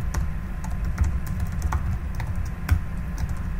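Steady typing on a computer keyboard during a web coding session, with quick light key clicks in an uneven rhythm, close and fairly quiet, heard almost alone apart from one brief spoken word.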